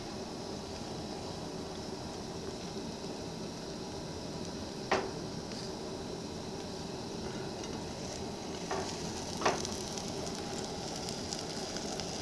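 An omelet sizzles in a frying pan with a steady, close crackling hiss, broken by two or three light knocks of a utensil against the pan.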